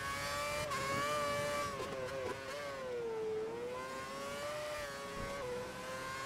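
An F1 race car engine in the F1 2011 video game at the Singapore circuit during qualifying, with the engine overheating. A close, continuous high-pitched whine rises and falls with throttle, dipping through a corner and climbing again.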